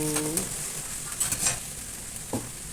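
Crab and squash are stirred in a pot of simmering food, giving soft scraping and clinking strokes over a quiet sizzle, faint and close, with a short bit of talking at the start.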